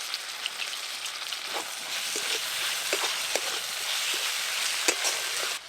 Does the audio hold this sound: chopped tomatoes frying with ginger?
yes